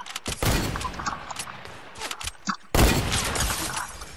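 Gunfire in Fortnite rings out in sharp, loud cracks and bursts, some with glassy shattering impacts, scattered across a few seconds with a heavy blast near the end and no talk.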